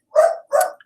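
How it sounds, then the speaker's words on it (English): A pet dog barks twice indoors at home, two loud, close, sharp barks in quick succession. "if you hear my dog barking, that is why"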